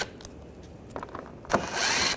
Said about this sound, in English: Using a T25 socket, take these screws out.